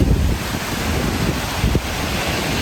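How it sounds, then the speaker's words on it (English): Indian Ocean waves roll onto Kuta Beach on a nearly deserted shore, a steady broad wash of surf mixed with wind buffeting the microphone, with no voices. "Wonderful Indian Ocean."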